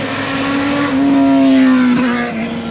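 Cars passing close by on a racetrack during a Mazda Miata track outing, engines droning loudly and steadily with a rising and falling pitch as they go past, no talk.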